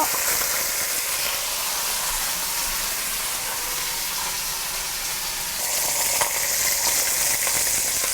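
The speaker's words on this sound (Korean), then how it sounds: "조금 튀김 방지를 위해서 이렇게 고기부터 익히도록 할게요." Pork sears in a pan with a dense, loud, continuous sizzle and a steady crackling hiss throughout. Around the middle the spattering grows a little brighter and more intense.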